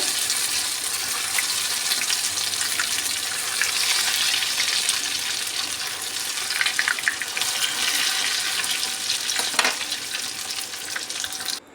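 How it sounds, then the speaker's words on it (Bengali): Steady, dense sizzle of soybean chunks frying in hot oil, loud and close, with occasional faint clinks and stirs throughout. "বাকি ব্যাচে আবারও আমি এগুলোকে ভেজে নেব"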